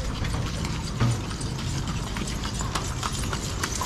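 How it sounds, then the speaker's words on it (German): A horse-drawn carriage clip-clops past on a street on Lombok, with steady hoofbeats and rattling wheels and fittings, fairly loud and close, with no talk over it. "Da kommt schon eine Pferdekutsche."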